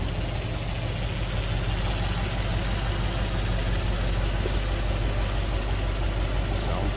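A 1956 Cadillac Coupe Deville with its 365 cubic inch V8 idles steadily, a smooth low rumble with a constant mechanical hum, close and unbroken throughout.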